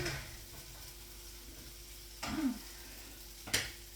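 Scrambled eggs cook in a pan with a soft steady sizzle, broken by a few quick stirring scrapes and clinks.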